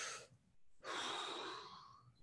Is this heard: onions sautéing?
no